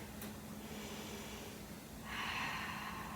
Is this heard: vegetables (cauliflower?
no